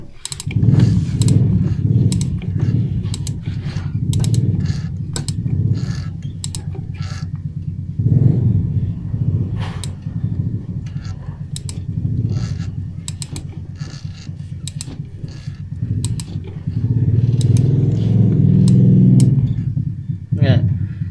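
A ratchet with a 19mm socket turns the crankshaft pulley of a Mitsubishi 4G13 engine in bursts of quick clicking, close up, with someone talking over and between the strokes.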